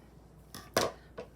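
Scissors snipping through paper to cut bunny ears for a craft, three short crisp cuts close up, the middle one loudest, in a quiet room.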